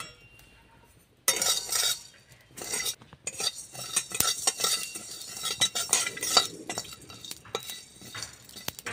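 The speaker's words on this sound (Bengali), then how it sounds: "একটা ছোট এলাচ, একটা লবঙ্গ আর দারচিনি আমি কড়াই দিয়ে ভেজে নেব।" Cardamom, clove and cinnamon are dry-roasted in a kadai, with close metallic scraping and clinking of a utensil against the pan in irregular bursts after a quiet start and a faint sizzle.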